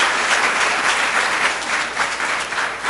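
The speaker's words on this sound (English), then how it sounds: "Let's give our students a round of applause" An audience at a school board meeting gives students a dense, steady round of applause, loud and continuous from start to finish with no talking over it.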